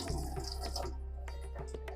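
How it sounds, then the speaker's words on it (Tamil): Soaked moong dal being drained of its water, a steady close trickle and splash of liquid running off through a strainer, continuous for the whole stretch with no talk. "இப்போது இந்த ஃபுல்லாக தண்ணி வடிகட்டிடுங்க"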